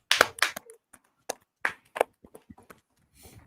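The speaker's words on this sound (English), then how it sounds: "Clap it up for the class." An audience claps for a class at a gathering: a scattered run of sharp claps that thin out into isolated hits and then a soft patter.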